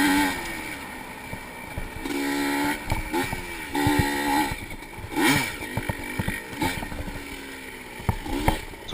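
Two-stroke dirt bike engines, including a Kawasaki and a 1985 Yamaha IT 200, during a vintage cross country race at Barber, buzzing and revving unevenly with bursts rising and falling, some near and some passing, with no one talking.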